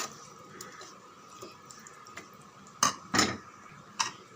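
A spoon scrapes and clinks against a pan while tomato pickle is mixed with roasted ground spice powder, with soft stirring and a few sharper metallic knocks near the end, quiet and close.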